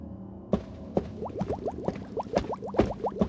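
Oil bubbles and pops in repeated bursts in a bottle, a run of small gurgling blips following one another at an uneven rhythm, close and fairly quiet.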